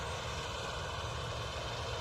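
A Mahindra Novo 655 tractor engine rumbles steadily and loudly at close range, a constant low idling drone with no other sounds.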